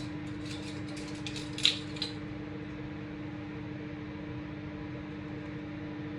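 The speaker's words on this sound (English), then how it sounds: "we're going to put this in the microwave for about 1 minute, roughly" A microwave oven runs during cupcake baking, giving a steady low hum with fan-like whir throughout and a brief clatter of kitchen activity early on.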